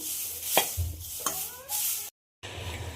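Garlic peels being stirred as they roast black in a pan, with quiet scraping and tapping strokes of a utensil, a few sharp knocks, and a faint sizzle beneath, no talking, with a brief cut to silence.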